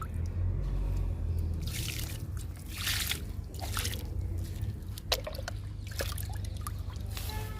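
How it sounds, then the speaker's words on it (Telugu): Orange peel liquid trickles and drips onto potted flower plants, a soft, close, irregular patter of splashes and dribbles with one sharper drip partway through. "ఆరెంజ్ తొక్కల లిక్విడ్ ఇస్తున్నానండి పూల మొక్కలకి"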